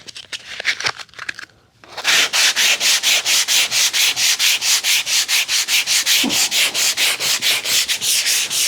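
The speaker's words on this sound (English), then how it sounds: "So you can see how much sanding I'm doing" Hand sanding of body putty on a damaged car panel with 120 grit paper: after a few light scrapes and a short pause, fast, loud, even back-and-forth rasping strokes run steadily, close up, with no talk.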